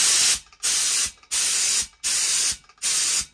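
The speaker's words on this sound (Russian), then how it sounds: "То есть пистолет, вот это звук пистолета" An air blow gun fed by a quiet oil-free Hyundai HYC 18224 LM workshop compressor fires five sharp bursts of hissing compressed air in an even rhythm, each about half a second long, with short silences between.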